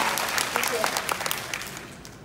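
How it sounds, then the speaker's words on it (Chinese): An audience claps at a railway festival celebration in an auditorium, a brief round of applause at close range that gradually fades, with some speech mixed in. "来，大家给你掌声鼓励"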